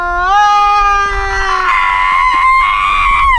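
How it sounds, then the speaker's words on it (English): A young boy lets out a long, loud, steady yell in the open, holding one high pitch for several seconds before it turns rougher and strained, with no talk over it. "He's just yelling down the street."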